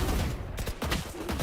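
Rapid gunfire in a competitive online shooter video game, a short dense burst of loud, close shots with no talking.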